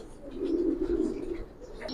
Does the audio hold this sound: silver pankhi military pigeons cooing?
yes